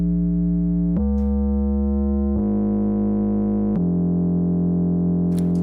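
Sustained synthesized sine-wave tones with added distortion, stepping through several pitch changes with sharp transitions, rich stacked harmonics, steady and loud with no voices.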